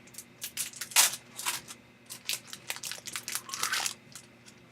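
Packaging around a paintbrush is peeled and torn open, producing close, irregular crinkles and crackles of plastic with a couple of sharper tearing bursts, with no talking.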